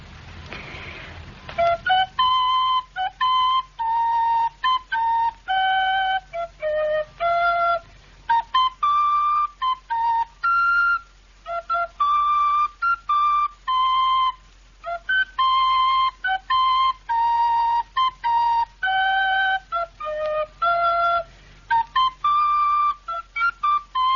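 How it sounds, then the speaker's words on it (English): A person whistles a tune alone, a long clear melody of many short and sustained notes with brief pauses, close and steady throughout. "I've heard it being whistled, Mr. Nicholson."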